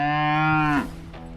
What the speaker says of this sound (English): these cows have been over in an area to let them feed on some grass over there